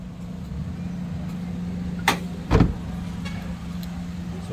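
A Suzuki Jimny engine runs at a steady idle, its low, even hum held close throughout, with a couple of brief clunks partway through and no voices.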